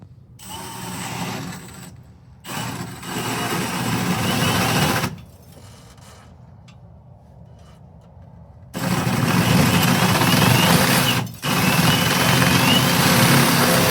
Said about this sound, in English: let me go ahead and drill in, and then we'll inspect it on the inside.